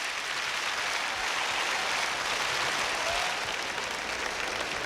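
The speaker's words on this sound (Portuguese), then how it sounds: "Glorifique ao Senhor com palmas" A church congregation gives sustained, even applause, a steady wash of clapping from many hands throughout.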